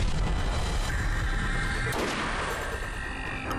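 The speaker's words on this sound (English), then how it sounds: "I need to check this out with my sniper rifle" A sniper rifle in Borderlands fires one sharp, booming shot near the middle, heard over a dense bed of game noise and rumble. No one speaks.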